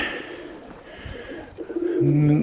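Nikolaev pigeons cooing in a loft in January, a low steady coo rising near the end over faint background noise and muffled voices.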